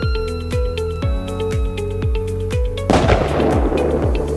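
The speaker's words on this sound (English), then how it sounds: "today we're going to be doing mortars" Small one-shot firework mortars going off in a row, with about six regular thumping launches half a second apart, then a loud crackling burst that rings out at the end, close and without talk.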